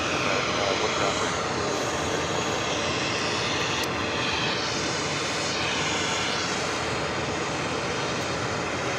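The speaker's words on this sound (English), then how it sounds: "Delta flight landing on the 22 left, coming in from Rome." A Delta Airlines Airbus A330-300 lands on runway 22 Left at New York's JFK airport, a loud continuous engine roar filling the whole stretch, heard from a nearby spotting position with no voices.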